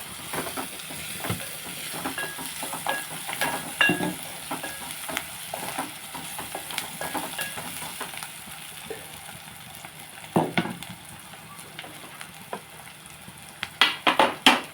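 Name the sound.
stirring raw banana pieces into fish curry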